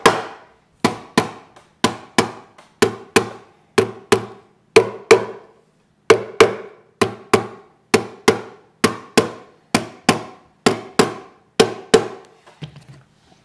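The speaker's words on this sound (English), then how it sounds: "Just be careful with your hammer as you're hammering on a guitar." Sharp hammer taps on the fret ends of an acoustic guitar land in quick, uneven bursts of two or three, about twenty strikes in all, each ringing briefly.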